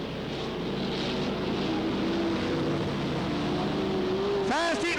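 IMCA Modified dirt-track race cars at Cottage Grove Speedway in 1991 roar continuously, with a steady loud engine drone and rising whines as cars pass, capped by a sharp doppler sweep near the end.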